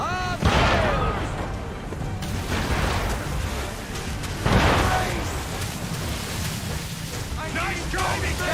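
Ship mortar and cannon blasts in the Assassin's Creed 3 naval battle, heavy booming impacts at intervals amid roaring sea and wind, with shouted voices throughout.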